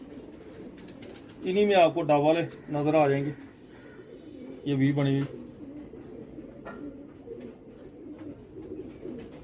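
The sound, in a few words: pigeons cooing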